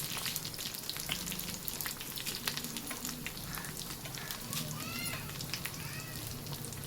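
Dried red chillies and cumin seeds frying in hot oil for a tempering, with a dense, continuous crackling sizzle close up and bursts of sharper spitting.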